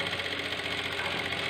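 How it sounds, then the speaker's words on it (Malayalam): A sewing machine running slowly and steadily while stitching a blouse sleeve, a continuous close mechanical whir with no talk. "ഞാൻ അതുകൊണ്ടാണ് പതുക്കെ തയ്ച്ച് കാണിക്കുന്നത്"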